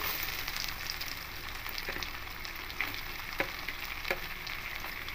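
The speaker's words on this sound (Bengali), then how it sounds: "দিয়ে একটু হালকা করে নারকেল কুচিটা ভেজে নেব।" Shredded coconut lightly frying in a pan for a vegetarian banana-flower dish, a steady soft hiss of sizzling with a few faint scrapes and taps of stirring, quiet and close, with no talking.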